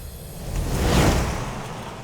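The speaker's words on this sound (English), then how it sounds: "I also added swooshes there." A swoosh for a motocross bike passing by, a single airy rush that swells to a peak at mid-length and then trails away, loud and without talk.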